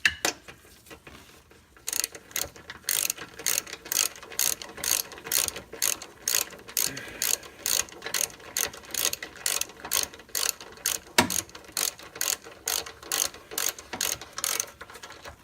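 A hand ratchet tightens lower control arm bolts on a Lexus IS 250/350/F, sounding in close, regular bursts of rapid clicking strokes with short pauses between, one sharper clank midway.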